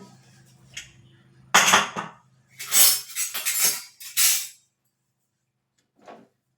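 A pressure cooker holding cooked dal is opened with several close metallic clanks and scrapes of the lid, separated by short pauses and ending in a faint final knock.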